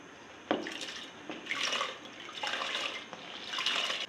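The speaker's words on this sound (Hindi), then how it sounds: "कुकर में मैंने पानी गर्म कर लिया है, अब इसमें मैं दालें डालूँगी।" Soaked lentils and rice pour into hot water in a pressure cooker, giving a few distinct splashing pours and watery sloshes spaced a second or so apart, close and fairly clear.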